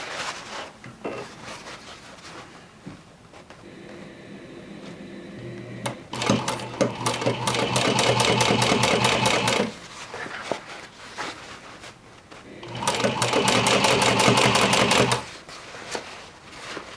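A home sewing machine stitching a seam on jeans from the Vogue V1895 pattern, its rapid mechanical clatter coming in two loud, close runs of several seconds with quieter handling and pauses between.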